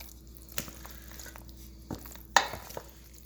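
Baked ziti ingredients stirred together in a pan: a few scattered spoon knocks and wet, squishy scrapes against the pan, with one sharper clank near the end, fairly quiet overall.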